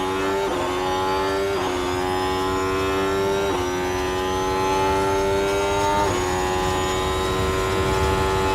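Onboard engine note of a Ferrari Formula 1 car on a fast lap around Mexico in F1 Manager 24, a loud high-pitched whine climbing through gears with several sharp upshift drops, continuous and close with no voices.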